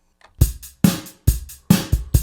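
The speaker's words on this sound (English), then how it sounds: "you can hear the drums here" A close, punchy drum kit beat alternates deep kick thumps with sharper snare cracks in a steady rhythm.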